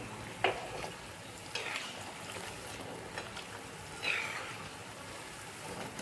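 Dal-rice gulab jamun dumplings frying in hot oil, a steady soft sizzle and bubbling with a few brief sharper spatters or stirring knocks rising above it.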